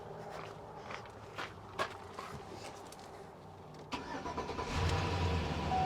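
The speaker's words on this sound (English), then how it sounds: "There it goes, cranks and runs." A car engine cranks over briefly amid a few nearby clunks and footstep-like knocks, then catches and settles into a running idle, close and moderately loud.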